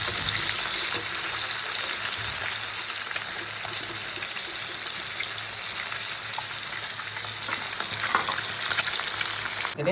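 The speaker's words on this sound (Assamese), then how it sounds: "মাছ ফ্ৰাই কৰি আছোঁ দেই" Fish frying in a pan gives a loud, steady sizzle and crackle that runs unbroken from start to finish, close up, with no talking.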